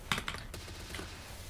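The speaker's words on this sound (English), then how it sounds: "My keyboard sounds nice." A wooden-sounding computer keyboard is tapped close by in a few quick keystrokes, crisp clacks clustered at the start and one more near the end, alone with no talk.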